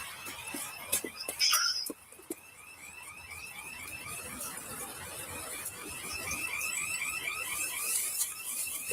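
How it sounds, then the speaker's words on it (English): An alarm goes off indoors with a repeating electronic warble that pulses steadily for several seconds, fairly faint, while a loud clatter and scattered knocks come through near the start. "The alarm's going off."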